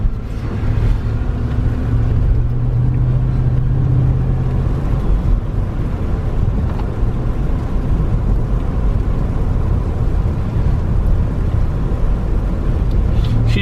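A 2015 GMC Yukon Denali drives down the road, a steady drone of engine and tire noise from inside the cabin that continues evenly with slight swells and no one speaking.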